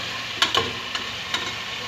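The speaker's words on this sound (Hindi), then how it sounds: "लहसुन अदरक के पेस्ट में इसे अच्छे से भूनना है" Mutton pieces fry in ginger-garlic paste for a cauliflower-and-meat curry, producing a dense, close sizzle broken by several quick spatula scrapes. No voices are present.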